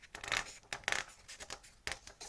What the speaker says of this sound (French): Voilà, et le papier de l'édition Art Thérapie.